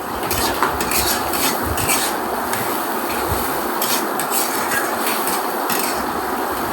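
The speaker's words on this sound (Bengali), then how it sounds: "দেখুন অনেকক্ষণ কিন্তু আমি নাড়াচাড়া করে কষিয়ে নিচ্ছি" Dried churi fish being stirred and sautéed in spice masala, a steady close sizzle with scraping and clinking of a utensil against the pan, continuous throughout with no talking.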